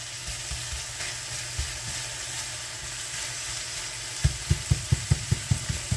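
Breakfast sausage fries in a pan with a steady, close sizzle, and a quick series of sharp scraping taps from stirring comes through near the end.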